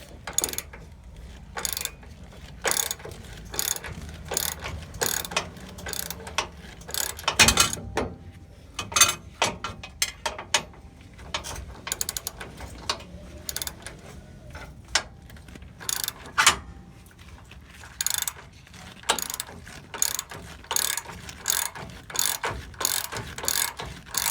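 Wrench ratcheting as it turns a 24 mm nut on a Dodge Ram lower control arm, with a steady run of quick clicking bursts close by and brief pauses between strokes.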